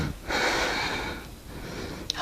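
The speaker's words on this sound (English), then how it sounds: "Just relax and take deep breaths." Someone takes a single deep, audible breath for relaxation, a close, airy inhale followed by a slower exhale and a faint sniff at the end.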